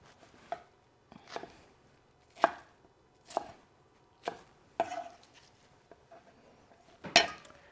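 A knife cutting baby bok choy on a cutting board, seven or eight separate sharp chops spaced about a second apart, close and clear with quiet gaps between strikes and no talking.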